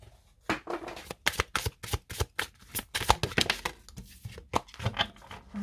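A deck of tarot cards is shuffled up close, a string of crisp riffling bursts and slaps with short pauses between, fairly soft and with no voice over it.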